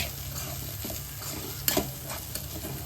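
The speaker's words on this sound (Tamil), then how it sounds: "அதில் பன்னீர் எல்லாத்தையும் போட்டு நல்லா மிக்ஸ் பண்ணிக்கலாம்." Paneer being stirred into sautéed capsicum and onion in a pan: a soft, steady sizzle with light scraping strokes and a sharper clink of the spatula against the pan.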